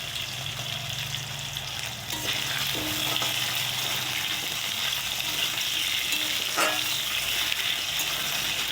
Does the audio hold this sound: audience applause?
no